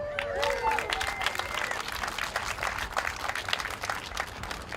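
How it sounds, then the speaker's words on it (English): At a Buffalo mural unveiling on Niagara Street, a small outdoor crowd claps briefly, a light scattered applause with some murmuring voices under it, fading toward the end. "You can clap for that."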